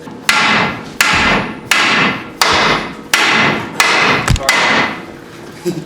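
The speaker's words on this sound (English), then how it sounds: "He just likes to hit stuff with a hammer." Seven heavy hammer blows land one after another at a steady, unhurried pace, each a sharp, loud metallic strike with a short ringing decay.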